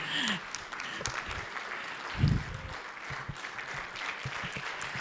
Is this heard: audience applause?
yes